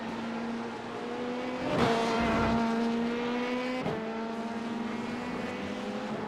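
Prototype GTP race cars in the iRacing sim, engines droning steadily with harmonic whine, a sharper roar and shift around two seconds and another change near four seconds as they close in from behind.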